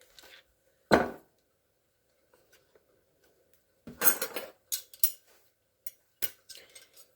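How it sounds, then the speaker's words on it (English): Metal fork and knife clink and scrape against a bowl while peanut butter eggs are coated in chocolate, with one clear clack near the start and a cluster of light taps and scrapes later, close and sparse. "I use the fork and knife method for coating my eggs"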